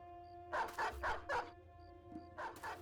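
War dogs in the Battle Brothers video game bark in a quick burst of four sharp, moderately loud barks, then two more after a brief gap, over a steady low background hum.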